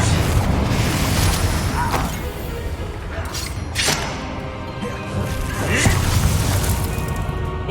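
Confringo blasting spell explosions in the Hogwarts Legacy video game: loud, dense booms and crashing thuds with creaking mechanical debris, swelling in bursts over a continuous rumbling game soundscape.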